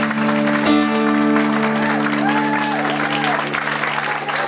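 An audience applauds warmly after a performance at the 2015 Sarasota Folk Fest, a dense sustained clapping that continues steadily while a held instrumental chord rings underneath.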